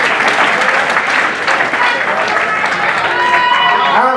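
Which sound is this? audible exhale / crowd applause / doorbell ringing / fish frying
crowd applause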